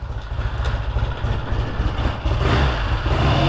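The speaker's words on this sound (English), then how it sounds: "This bike takes a minute to warm up sometimes." A 1968 Triumph TR6C motorcycle engine runs on a cold day, loud and close, with a rough, uneven low rumble that swells into a fuller roar toward the end, with no talking.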